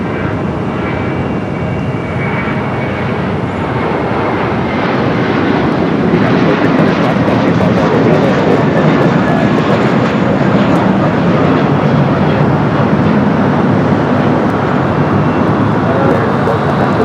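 An American Airlines Airbus A321 takes off at Los Angeles International Airport, its jet engines giving a loud, sustained broadband roar that swells slightly as it continues.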